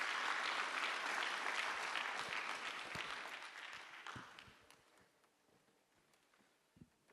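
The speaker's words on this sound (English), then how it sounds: "A round of applause." A crowd applauds steadily, then the clapping gradually thins and fades to a few scattered claps.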